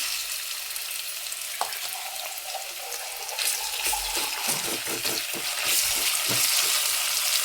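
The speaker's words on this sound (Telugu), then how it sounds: "లవంగం, దాల్చిన చెక్క, సాజీరా ఇవన్నీ వేసేసుకొని అన్నీ కలిపేసుకుంటున్నాం" Whole spices (bay leaf, cloves, cinnamon and shahi jeera) frying in hot oil in a pan for spinach khichdi, a steady close sizzle with scraping stirs growing busier and louder toward the end.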